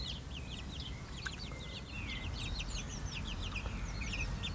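Hens and small chicks in a covered coop section, steady high cheeping and soft clucking repeating throughout, fairly faint over a constant low background hiss.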